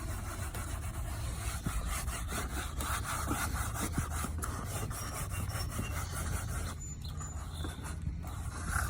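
Scrubbing years of built-up dirt off the rear interior paneling of a Chevrolet Tahoe, a close, continuous rasping brush scrub with quick back-and-forth strokes and brief pauses.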